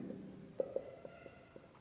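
Marker or chalk writing an equation on a board during a geometry lesson on similar triangles, heard as a few soft, separate taps and short strokes in a quiet room, with no talking.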